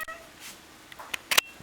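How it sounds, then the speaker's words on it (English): A pet cat makes a short meow at the start, followed by a few scattered faint clicks and rustles close by in a quiet room. "this is my cat"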